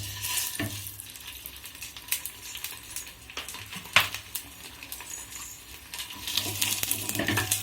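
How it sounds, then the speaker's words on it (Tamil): Curry leaves crackle and sizzle in hot oil in a pan, village-style home cooking, with steady frying hiss broken by scraping stirs and a sharp clink near the middle, close and fairly loud. "கருவேப்பிலை நல்லா பொரிஞ்சதும் எடுத்து வச்சுக்கிறத"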